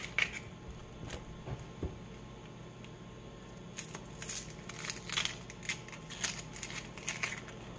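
Crisp crackling and rustling as the papery outer layer of a vegetable is peeled off by hand in a kitchen, close, quiet and irregular, with a denser series of snaps in the second half and no talking.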